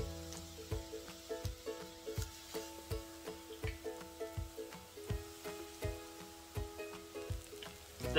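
Green beans in batter fry in hot oil for vegan vegetable tempura, a close, steady sizzle crackling over a repeating rhythmic beat of background music, with no talk.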